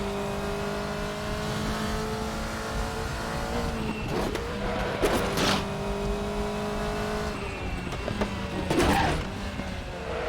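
A Group C race car engine in the racing game RaceRoom, at the Nordschleife, hums and whines steadily, rising and falling with gear changes, with a couple of brief bursts of tire noise.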